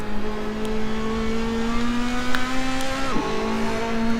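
A race car engine held at full throttle in the Assetto Corsa racing game, a steady high whine that dips briefly as it shifts and then settles again, loud and continuous with no talk.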